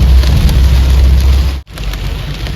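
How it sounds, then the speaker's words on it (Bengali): Heavy rain drums hard and close on a shared car on the road to Gangtok, a thick continuous roar over low engine rumble, cut by a brief gap midway. "প্রবল বৃষ্টি হচ্ছে এইসব"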